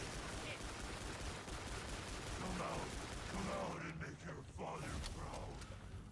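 Rapid gunfire rattles in Killing Floor 2 on a custom map, a dense crackle of shots and game sounds running continuously under faint background voices.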